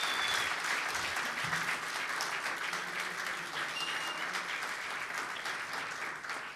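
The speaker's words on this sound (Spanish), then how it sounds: "démosle un aplauso a los músicos que están allá atrásito" An audience applauds the musicians of a jazz quintet at a live concert, with dense, even clapping sustained throughout at moderate loudness and a few faint voices beneath it.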